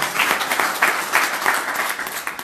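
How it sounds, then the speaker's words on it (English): Meeting audience gives city workers a round of applause, a steady wash of many hands clapping at moderate volume throughout. "I want you to give them all a big round of applause for the things they do every day"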